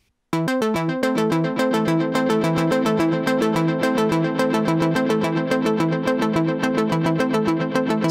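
Synth notes played into a DIY MIDI looper sequencer, a steady run of evenly spaced, quantized tones ringing out clearly and alone after a brief silence.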